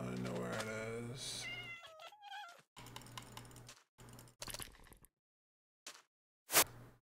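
A cat meows in a video game, several distinct high meows and yowls in short bursts with silent gaps between them, close and clear, and keyboard clicks underneath.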